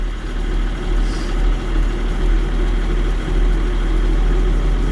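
A steady, low engine idle rumbles continuously at about 750 rpm, close by and unchanging, with no voices.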